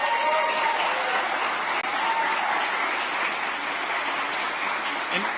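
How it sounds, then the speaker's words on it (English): An audience of school principals at a town hall on gun violence prevention gives a steady, dense round of applause that holds at an even level throughout, with faint voices mixed in. "Let's give them a round of applause."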